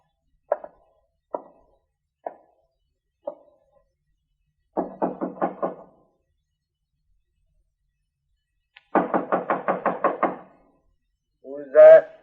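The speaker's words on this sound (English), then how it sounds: "knock on the door" Knocking on a wooden door in a 1950s Gunsmoke radio drama: single sharp knocks spaced apart, then a quick burst of raps, a pause and a longer rapid series, close and crisp against silence, ending as a voice speaks.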